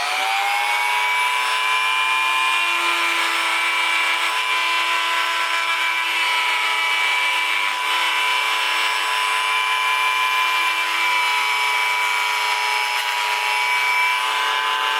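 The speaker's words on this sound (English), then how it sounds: "we've got a little very small tool in the Dremel which we're going to use to reprofile this" Dremel rotary tool fitted with a very small bit reprofiling a Lambretta Jet 200 carburettor part, a steady high-pitched whine that holds continuously and loud throughout.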